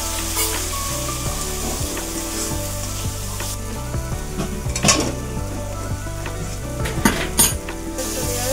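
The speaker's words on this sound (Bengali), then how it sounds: "এটা ভালোভাবে কষিয়ে নিতে হবে।" Masala sizzles and fries in a pan while being stirred, with steady crackling throughout and sharper scrapes and clinks of a utensil against the metal at intervals, loud and close with no talk.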